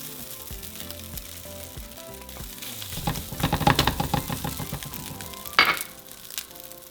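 Chorizo sizzles and crackles steadily in a pan on medium-high heat, with stirring scrapes and a sharp clink of a utensil partway through.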